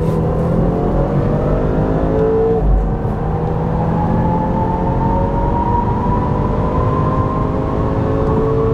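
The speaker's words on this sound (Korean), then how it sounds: "변속기 좌측으로 밀어서 S 모드 상태에서 가속 페달만 전개해서 테스트를 진행해 보도록 하겠습니다" A car in S mode accelerating at full throttle from inside the cabin, a loud steady engine drone with tones rising smoothly through the run, no talk.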